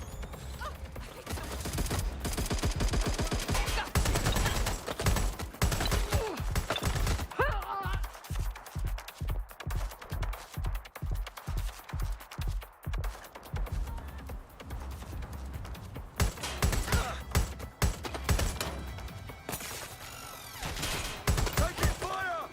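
Gunfire in Watch Dogs: Legion during a market clash: bursts of rapid shots and a steady run of evenly spaced rounds in the middle, loud and close, with game noise and a player voice talking over parts of it.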